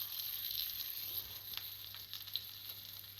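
Steaks sizzle in a tipped pan while being basted with hot fat, a soft continuous crackle with occasional sharper spits, faint and without talk.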